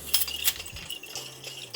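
A glass bottle clinks and knocks as it is lowered into a basin of warm water with a sanitizer solution used for home brewing, giving a few bright, close clinks and a soft splash.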